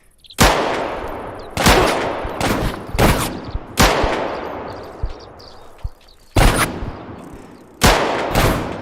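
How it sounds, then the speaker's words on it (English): Shotguns and other guns fire in the survival shooter game Deadside, with loud, booming blasts in irregular bursts, each shot followed by a ringing decay, some shots in quick pairs. "Some of these are shotguns."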